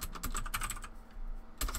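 Keys on a computer keyboard clatter in quick, close bursts of typing, a rapid run of clicks, a brief pause, then another flurry at the end.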